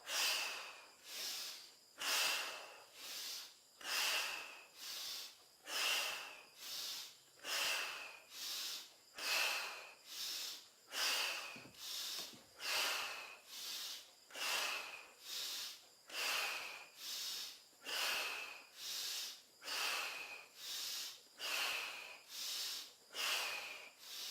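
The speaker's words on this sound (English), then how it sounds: "Okay, another one, synchronized breathing." Rhythmic breathing exercise with forceful nasal inhales and exhales, steady and sharp, repeating roughly every second for over twenty seconds, close and loud with no talking.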